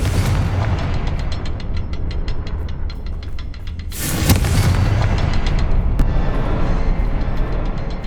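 Confringo, the fire spell in Hogwarts Legacy on PS5, bursts with a loud booming explosion midway, followed by a rumbling tail and crackling debris, preceded by a steady rhythmic series of sharp ticks.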